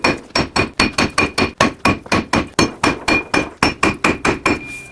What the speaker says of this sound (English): give this a couple whacks with a hammer and take this